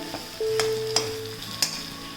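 Spiced potato sabji seasoned with black pepper being stirred in a pan for UP-style poori and sabji, with a few sharp spoon scrapes over a low steady sizzle and no talking.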